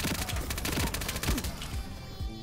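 Rapid gunfire in the online shooter game Ironsight crackles in dense, overlapping bursts, loud and close, briefly fading near the end.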